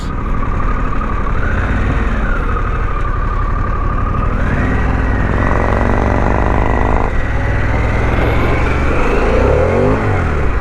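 A 2021 Harley-Davidson Pan America 1250 S being ridden on the road, its engine droning loudly and steadily, with rising and falling pitch as it accelerates and shifts, plus wind rush and no speech.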